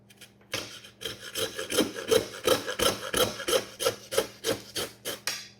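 A butcher's knife works through a lamb shoulder to take off the knuckle, giving a steady run of about fifteen short rasping strokes in quick rhythm, close and fairly loud, with no voices.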